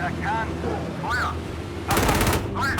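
Small arms fire from infantry across a road in the PC tank game Gunner HEAT, heard as a burst of rapid, dense crackling gunfire for about a second amid ongoing game noise and whistling tones.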